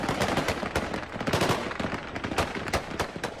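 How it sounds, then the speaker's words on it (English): Taliban fighters fire rapid, dense bursts of gunfire into the air to disperse protesters at a street rally in Kabul, a loud, continuous crackle of overlapping shots. "Taliban resorted to aerial firing to disperse protesters."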